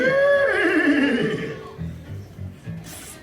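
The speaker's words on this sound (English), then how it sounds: "That's Maximus, the horse of the Royal Guard." Maximus, the Royal Guard horse in a Tangled stage show at a Disneyland theater, gives a loud, close whinny that wavers and falls over about a second and a half, then fades into softer stage sounds.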